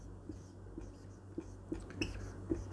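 A pen scratches on paper in short, separate strokes, roughly half a dozen soft taps and scrapes at uneven intervals, close but quiet over a faint room hum.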